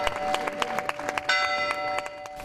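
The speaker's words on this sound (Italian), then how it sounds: "Sono tornate a suonare a Pianella le campane della chiesa di San Domenico" Church bells of San Domenico church in Pianella ring out during an inaugural ceremony, a dense cluster of clanging strikes layered over sustained tones with a busy crowd-like wash beneath, fairly loud and continuous.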